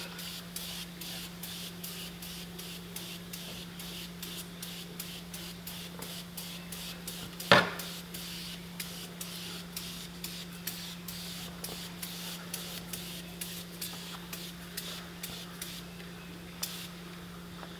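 Super Clean aerosol degreaser sprayed onto a car engine bay, a steady hiss beneath faint rhythmic ticking, low hum, and one sharp burst midway.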